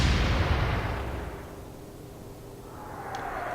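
Naval gun firing in the Atlantic Fleet game during the Battle of the River Plate, a single heavy boom at the start rolling off into a long fading rumble, with faint distant sounds returning near the end.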